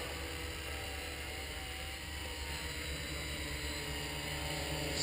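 A HOVERTHINGS VC-450 camo quadcopter flying on its maiden flight, its propellers giving a steady, even buzzing drone with a sustained high whine throughout, heard from a moderate distance with no talk.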